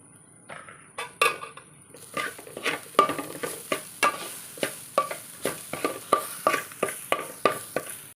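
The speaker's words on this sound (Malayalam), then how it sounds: "ചക്ക ചേർത്ത് കൊടുക്കാം നന്നായിട്ട് ഇളക്കി ഒന്ന് മിക്സ് ചെയ്ത് വെക്കാം" A spoon scrapes rhythmically through grated coconut, tender jackfruit and chili powder in a pan, giving nearly twenty quick, evenly spaced strokes close up over a light sizzle.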